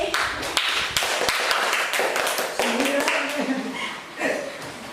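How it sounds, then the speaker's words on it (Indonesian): Classroom applause after a student's presentation on Islamic moral teachings about teen friendships: a dense burst of many hands clapping, fairly close, running for several seconds with some chuckles and murmuring mixed in. "Ya, beri tepuk tangan."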